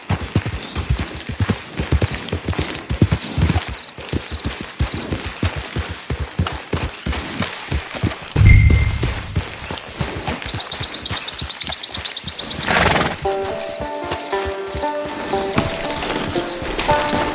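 Rapid, steady clip-clop of hooves from a horse in the video game Red Dead Redemption 2, with a brief heavy thud and some musical tones near the end.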